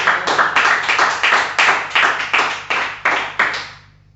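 Church congregation clapping hands in unison, about a dozen loud, evenly spaced claps close by that stop abruptly and leave a short fading tail.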